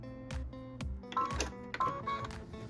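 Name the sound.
sewing machine stitching the tack down line on fabric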